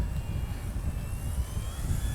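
An E-flite Turbo Timber RC bush plane in flight, its electric motor a steady, fairly faint whine over continuous wind rumble.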